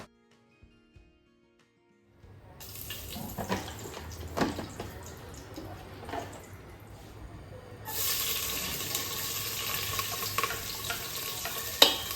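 Chopped onions sizzle in oil as they fry to golden for ghee rice made in a pressure cooker. After about two seconds of near silence, a steady frying hiss sets in with a few stirring scrapes, then grows louder and brighter toward the end.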